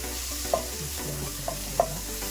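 Goat head curry with chunks of fat, salt and chili powder is stirred in a pan, a spoon scraping and clacking a few times over a steady close sizzle.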